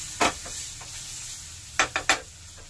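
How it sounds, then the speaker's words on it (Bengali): Okra (bhindi) frying in a pan at home, with a faint steady sizzle broken by a few sharp stirring scrapes, one early and three grouped together near the end. "ভেন্ডি ভাজা হচ্ছে"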